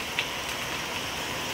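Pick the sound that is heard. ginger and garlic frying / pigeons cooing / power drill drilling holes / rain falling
rain falling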